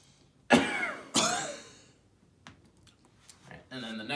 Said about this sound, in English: you're gonna cough going forward and throw your head forward